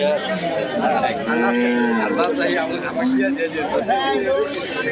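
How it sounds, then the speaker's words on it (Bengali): Several dairy cows at a cattle market moo in long, drawn-out calls that overlap one another, close and loud, with people chattering in the background. "এ পাশে দেখুন আরও অনেক গরু উঠেছে দুধের গরুগুলো"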